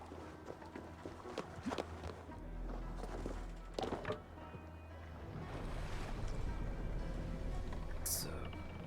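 Sailing ship riding ocean waves in Assassin's Creed Valhalla, a steady low wash of water and wind with occasional wooden thunks and creaks, continuous and fairly close throughout.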